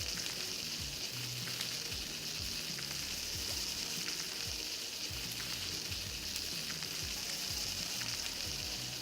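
Chickpea sauté cooking in the video game Palworld: a steady, dense, crackling sizzle of frying food, close and fairly loud, unbroken throughout with no talk over it.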